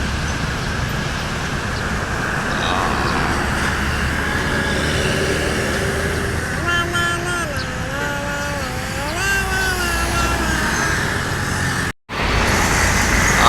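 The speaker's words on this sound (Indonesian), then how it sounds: "Disusul belakangnya ini ada bus kembali nih." Buses travelling a road in Indonesia, a steady roadway roar with engines passing, a horn-like tonal wavering midway, and a brief dropout near the end.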